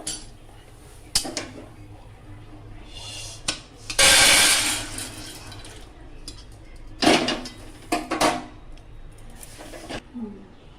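Roasted grains are poured into a metal container in a home kitchen, giving bursts of clattering, rattling metal and scattered clinks separated by quieter gaps.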